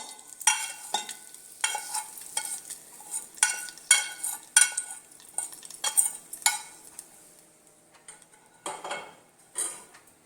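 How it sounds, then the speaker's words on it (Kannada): Hot spice tempering stirred into yogurt for moong dal dahi vada, heard as a series of close, rhythmic scraping and clinking spoon strokes against a bowl, about a dozen bursts separated by short quiet gaps. "ಈ ಒಗ್ಗರಣೆಯನ್ನು ಈಗ ಮೊಸರಿಗೆ ಹಾಕ್ಕೊಳ್ಬೇಕು."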